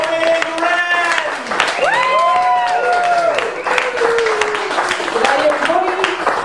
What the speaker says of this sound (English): More applause than that.